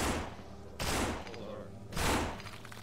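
Three loud booming shotgun blasts from the zombie video game No More Room in Hell arrive about a second apart, each with a short decaying tail.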